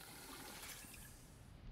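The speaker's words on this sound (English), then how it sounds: "Actually, let me drink some water." Drinking water in the survival video game Icarus makes a steady rushing, gushing water effect lasting under two seconds, fairly loud and with no speech.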